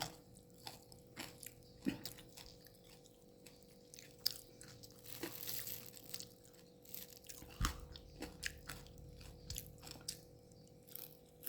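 Someone nearby chews and bites crispy pork during a meal with fresh chili dip, giving faint moist crunches and mouth sounds in an irregular rhythm with no talking.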